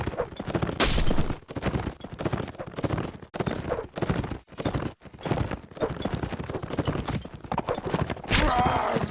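Galloping horse hooves in a competitive video game match, a fast clip-clop rhythm with clashing combat noises and occasional whinnies running continuously throughout.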